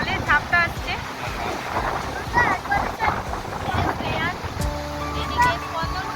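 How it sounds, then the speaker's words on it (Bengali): Dam-released river water gushing and splashing hard on a mountain trek route near Raithal, a steady loud roar with wind buffeting the microphone and people talking over it. "পুরো জলের ঝাপটা আসছে"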